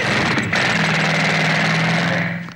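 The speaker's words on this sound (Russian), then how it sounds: "Это ребята достали отбойные молотки." Jackhammers hammer continuously in a fast, steady rattle with an engine-like drone, loud and close throughout, fading slightly at the end.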